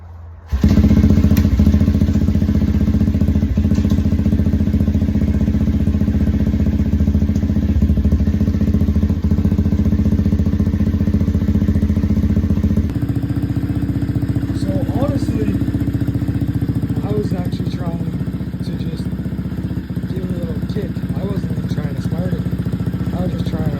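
A 125cc dirt bike engine, just repaired for an oil leak, idles loudly and steadily, then its tone shifts partway through as it keeps running, with faint crackles over the rumble.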